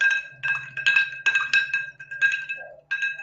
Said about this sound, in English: A little bit more ASMR, that time ice clinking.